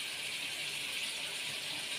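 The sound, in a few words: prawns frying in a pan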